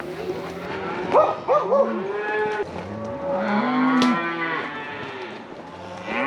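Cows being driven along a road through deep timber low and moo repeatedly, several drawn-out calls overlapping at moderate distance, with a brief sharper yelp near the middle suggesting a dog among the herd.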